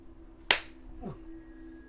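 A single sharp hand pat or clap, moderately loud and close, demonstrating a light tap that is not too hard, followed by a faint low vocal sound.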